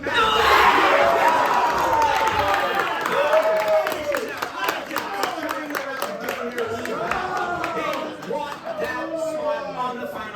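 An esports crowd at a Valorant match cheers and shouts loudly and continuously, with whoops and applause swelling at first and then settling into a sustained roar.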